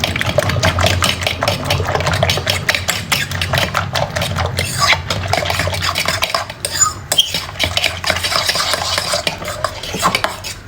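Eggs for a diet omelette being mixed in a bowl, a steady run of scraping and clinking strokes that carries on for about ten seconds, close and fairly loud, with no voices.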